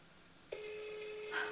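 A single steady phone tone comes in after a short quiet stretch, holding level on an unanswered call to a missing roommate's phone, with a brief louder burst near the end.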